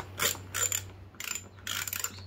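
A ratcheting socket wrench clicks in four quick close bursts while backing bolts out of a metal strap that holds a scrap motor in place, with a low steady hum underneath.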